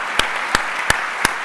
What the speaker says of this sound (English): please join me in a round of applause to thank Dr. Michael